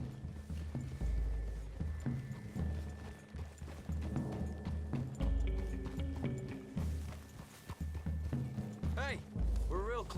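Horse hooves clop steadily over a rumbling soundscape in the video game Red Dead Redemption 2, with a couple of whinnies near the end and music underneath.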